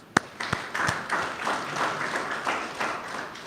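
An audience at a gender policy validation event for tertiary and higher education claps together in a steady burst of applause, dense and moderately loud, with a few sharper individual claps near the start.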